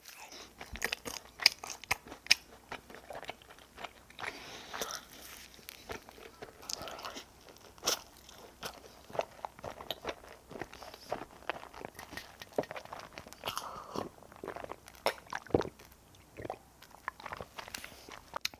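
Chapssal-tteok and baekseolgi rice cakes being eaten up close, with soft crunches and bites repeating irregularly and a few louder snaps standing out over a quiet background.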